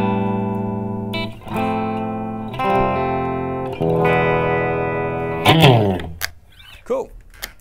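A 60th anniversary Fender Stratocaster electric guitar played through a Fender Hot Rod Deluxe Tweed amp, ringing out sustained strummed chords and bright picked notes with a clean-to-mildly-driven tone, close and loud, fading into a few lighter notes at the end.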